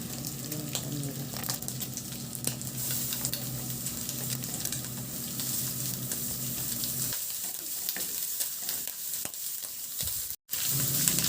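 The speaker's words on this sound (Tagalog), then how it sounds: "Itabi ko lang siya sa kawali at igisa ko na rin yung bawang" Garlic sautéing in rendered pork liempo fat in a pan, giving a continuous close sizzle with scattered crackles and a low hum under it, dipping briefly near the end.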